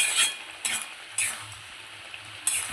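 Pineapple chutney is stirred in a pan, a spoon scraping through the thick, jelly-like mixture in a few distinct strokes over a soft background sizzle, close and without talk.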